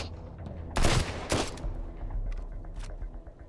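Bursts of machine gun fire in the survival game Sunkenland, two loud sharp volleys close together followed by fainter, more distant shots over background game sound.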